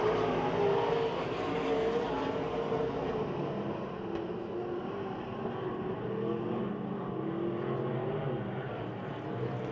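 Race cars battling for the lead at Pennsylvania Motor Speedway near Pittsburgh, a continuous roar of engines from the pack, fairly distant and steady with no break.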